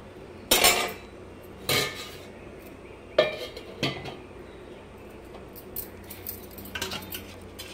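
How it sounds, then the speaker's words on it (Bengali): A metal lid is set onto a cooking pot on a low flame, giving a few sharp clanks spread over several seconds, with lighter metallic taps and clinks trailing off after them. "এবারে বসিয়ে দেবো, মানে ঢাকা চাপা দিয়ে দেবো আর কি"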